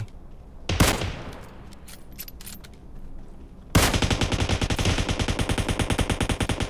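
Video game automatic gunfire: one loud burst and scattered shots, then from the midpoint a sustained rapid-fire stream of rounds, close and dominant with no talk.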